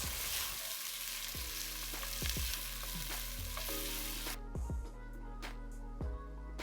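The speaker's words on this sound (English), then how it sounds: "Now we're just going to saute this for about 5 minutes." Diced onion sautés in a pan, seasoned with pepper and kosher salt, for a rigatoni alla vodka sauce. A steady close sizzle carries on throughout, with a few sharp scraping knocks of a utensil against the pan.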